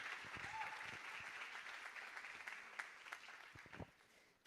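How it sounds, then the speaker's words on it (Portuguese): A church congregation at a youth Bible school gathering claps to welcome a missionary speaker, moderate applause that thins into scattered individual claps near the end, with faint voices underneath. "Receba ela aplaudindo bem forte a Jesus."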